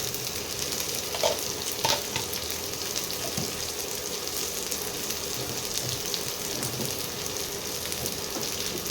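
Cashew nuts, melon seeds and cumin fry in a pan with onion, giving a dense, continuous sizzle with occasional light scrapes, loud and close, with no voices.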